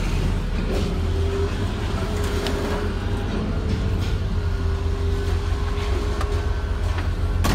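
An idling car engine that had trouble starting gives off a steady, close rumble with a constant low hum, unchanging from start to finish.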